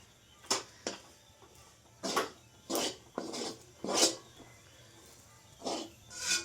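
A spoon scraping and stirring a thick mixture in a pot, likely a batter for colourful rice-and-milk dumpling payesh, with short rasping strokes in an irregular rhythm, close but fairly quiet.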